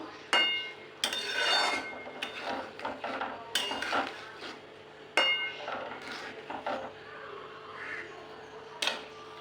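A spoon clanks and scrapes against a pan while prawn malai curry, finished with a little ghee, is stirred: quiet, irregular metallic knocks and scrapes in a still kitchen.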